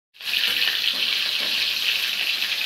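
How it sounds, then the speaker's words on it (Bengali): Hilsa fish heads frying in hot oil in a wok give off a steady, loud, close hiss and sizzle that runs unbroken from start to finish. "কড়াইয়ের মধ্যে তেল দিয়ে ভালো করে ভেজে নেব মাছগুলো"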